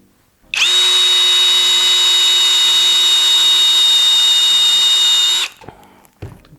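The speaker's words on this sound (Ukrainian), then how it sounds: "спробуємо ще сверління в металі. У нас 10 мм сверло на першій швидкості" A Procraft PI18BL cordless drill on first speed driving a 10 mm bit into metal, a loud steady high whine held for about five seconds, then cut off, followed by faint clatter.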